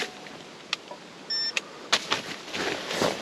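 Ice fishing flasher powered from an inverter inside a fishing shack gives a short electronic beep amid faint clicks and handling noises, fairly close and otherwise quiet.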